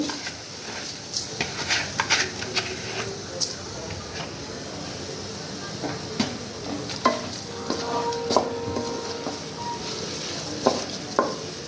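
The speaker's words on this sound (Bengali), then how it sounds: "ভালো করে মশলাটাকে নিয়ে কষিয়ে নিতে হবে" Spices and rice being sautéed in a pan for vegetarian khichuri, with close sizzling, repeated scraping and stirring strokes, and occasional clinks of the spoon against the pot.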